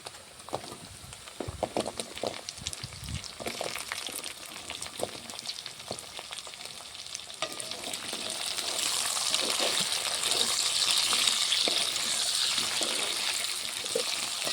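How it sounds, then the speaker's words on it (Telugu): Drumsticks frying in spice masala for a village-style drumstick egg curry, a steady sizzle with stirring clatter that grows louder and denser toward the end, no talking. "మసాలా బాగా వేగింది ఇప్పుడు మునక్కాయలు వేస్తున్నా"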